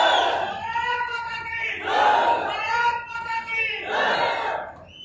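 A large crowd cheers and shouts in rising waves at a stadium in Doda for a Union Minister. The sound is loud and sustained, with no clear clapping.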